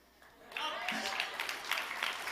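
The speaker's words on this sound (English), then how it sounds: "Roger needs another ovation" Audience applauding at a military-support charity gala, the clapping building from a quiet start into a steady, dense ovation that fills the room, with a voice talking briefly over the beginning.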